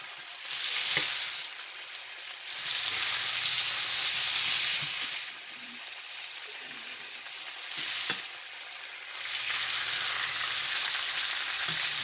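Potatoes frying in a skillet, a loud steady sizzle that swells and drops in waves as the pan is tossed, with occasional clinks, no talk.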